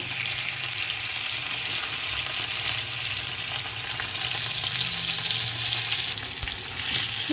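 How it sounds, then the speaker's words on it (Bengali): Potatoes frying in hot mustard oil in a pan give a steady, close, even sizzle throughout, with faint clinks and a bubbling hiss and no talk. "এবারে চলুন ওই তেলেই আলুটা একটু ভেজে নিই"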